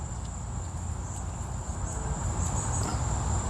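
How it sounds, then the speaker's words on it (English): A cricket chirps in a garden among tomato plants, a steady high shrill trill running without pause over low outdoor rumble, moderately close and alone. "It's a different type of cricket, looks like."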